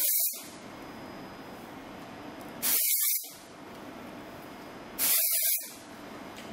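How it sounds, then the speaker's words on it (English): Hair product sprayed onto the scalp while styling soft curls: three short hissing aerosol bursts about two and a half seconds apart, close and fairly loud over a quiet room. "we're just going to go ahead and spray it on the scalp"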